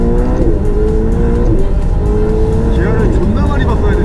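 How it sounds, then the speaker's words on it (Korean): A Ferrari 488 Spider sports car engine accelerates loudly and continuously, its pitch rising and shifting through gear changes, with a steady close engine roar filling the whole stretch. "오늘은 페라리 488을 타게 되는데요."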